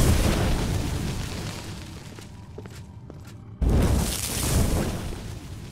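A fire spell blast in the fantasy video game Oblivion, a loud booming burst that rumbles and fades, then a second heavy blast hits abruptly partway through, with no talking.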